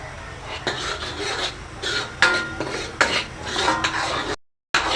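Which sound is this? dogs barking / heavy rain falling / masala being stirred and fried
masala being stirred and fried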